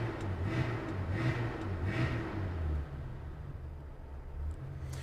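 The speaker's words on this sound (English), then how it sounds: "So if I blip the throttle" A car engine on a dyno running under RusEFI engine management, with the throttle blipped so it revs briefly in short pulses before settling back to a steady idle rumble, close and continuous with no talking.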